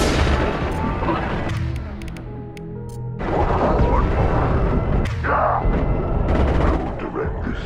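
Heavy weapon fire in Mass Effect 2 aboard the Collector ship: loud, dense bursts of booming gunfire and crashing blasts that ease off briefly mid-clip, then return with sharp cracks and impacts over a roaring battle backdrop.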